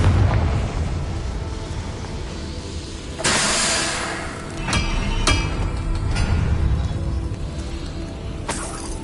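A Confringo fire-blast spell explodes in Hogwarts Legacy with a sudden loud burst and hiss, then scattered sharp cracks and impacts over a steady rumbling game soundscape.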